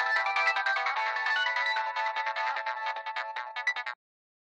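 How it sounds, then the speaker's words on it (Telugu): A phone ringtone plays a bright, repeating melodic tune for about four seconds, then cuts off abruptly into silence. "బావా ఫోన్."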